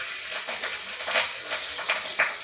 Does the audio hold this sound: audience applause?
no